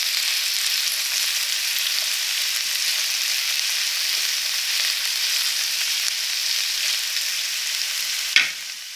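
Onions frying in a pan for kebabs, a steady loud sizzling hiss that runs throughout, with a sharp clink of the spoon near the end.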